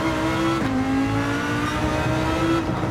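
A Lamborghini GT3 race car in a racing video game holds a loud, steady engine drone, its pitch dipping briefly and then climbing again as the car accelerates.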